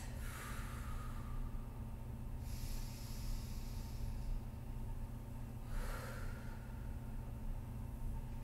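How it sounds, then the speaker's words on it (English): Slow deep breathing during a glute bridge hold, with two long airy exhales a few seconds apart over a steady low background hum. "taking some nice deep breaths"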